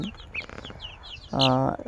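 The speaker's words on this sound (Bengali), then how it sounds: "আজকে 20 দিন বয়সী দেশি মুরগির বাচ্চা" High, quick peeping of 20-day-old native chicks scattered throughout, then a louder, fuller cluck from a bird nearby near the end.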